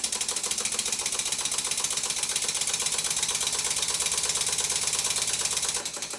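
Stuart Twin Victoria model steam engine running under load, a fast, steady mechanical clatter of rods and valves ticking in tight rhythm, close and continuous, dipping slightly at the very end.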